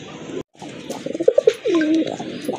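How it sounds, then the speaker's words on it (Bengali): Rajgolla pigeons, a native Bengali breed, give soft throaty coos and a drawn-out gliding call nearby, with light rustling and a brief gap early on. "এটা হচ্ছে অরিজিনাল রাজগোল্লা কবুতর, অরিজিনাল দেশি কবুতর।"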